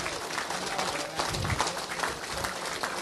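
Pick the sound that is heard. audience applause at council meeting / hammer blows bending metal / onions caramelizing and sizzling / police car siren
audience applause at council meeting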